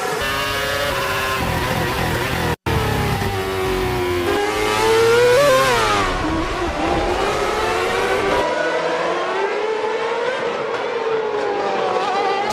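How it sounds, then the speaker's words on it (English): Formula 1 cars at the Singapore Grand Prix scream past at around 150 mph, loud high-pitched engine whines rising and falling in pitch as they pass close by, one after another, with a brief dropout partway through. "they're doing about 150 miles an hour as they pass by there"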